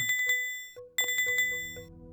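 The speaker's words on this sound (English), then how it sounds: "Can I ring the bell?" A bell rung in the video game RuneScape 3: several bright, metallic rings with harmonic overtones, struck in quick succession, pausing, then ringing again in a clustered burst, loud and alone.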